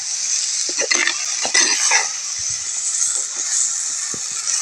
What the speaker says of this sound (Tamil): அது விறகு அடுப்பில் சமைக்கிறோம் சூப்பராக வேக வைக்கிறோம் அப்படியே அழகாக சூப்பராக வதக்கி எடுத்தோம்னா